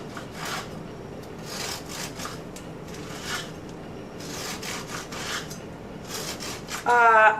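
A sharp knife sawing through still-hot almond biscotti, heard as a close series of dry, rasping strokes in an uneven rhythm, repeated over several seconds with no talking.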